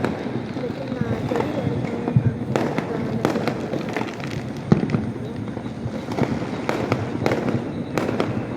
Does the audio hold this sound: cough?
no